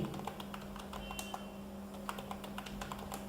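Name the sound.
typing a password on a computer keyboard and pressing enter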